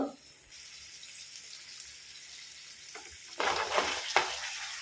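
Bondas squid frying in a pan on low flame until dry, a soft steady sizzle that swells louder with bursts of stirring and scraping near the end.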